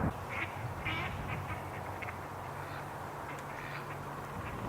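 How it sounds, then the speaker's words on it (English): Wild ducks quacking as they fly overhead outdoors, a series of faint, distant nasal calls over steady background rumble. "Wild ducks just flew over top and Doug wants to chase everything."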